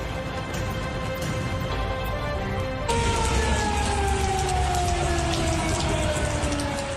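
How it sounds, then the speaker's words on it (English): A flood warning siren rises in from a distance, its long wailing tone sliding slowly downward over steady rain pattering on a surface. "the flood siren is sounded"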